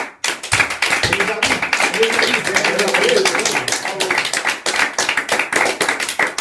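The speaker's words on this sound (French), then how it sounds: "Il est de tradition chez nous d'applaudir les championnes." Studio audience in a French local sports radio show claps for women champions, a steady run of dense hand claps lasting several seconds with voices murmuring underneath.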